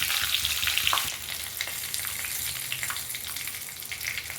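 Tempering for raw banana kuzhambu fries in a pan with curry leaves and asafoetida, giving a loud, close crackling sizzle that drops to a steady, softer frying hiss after about a second, with no talking.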